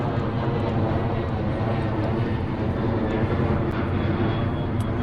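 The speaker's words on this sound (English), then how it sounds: "plane's about to fly over" Propeller airplane flying low over a golf course at Kelowna Springs, a loud steady engine drone that fills the whole stretch with no break.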